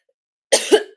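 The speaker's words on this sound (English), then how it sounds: "Sorry, you're literally just hearing me coughing." One person coughs close to the mic, two quick harsh bursts after a short silence.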